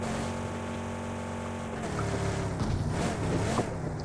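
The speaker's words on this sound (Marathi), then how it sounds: "आता तू चालू दे बाई गाडी." A car driven in a competitive esports scrim match gives a steady, humming engine drone that rises slightly and turns rougher partway through, with no one talking.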